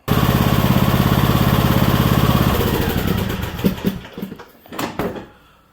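A John Deere E100 lawn tractor engine runs loud and close with a steady, throbbing idle, then slows and sputters to a stop with a few clunks as it dies.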